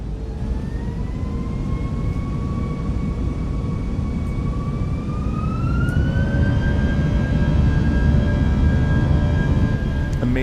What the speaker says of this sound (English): I'm gonna spool these engines up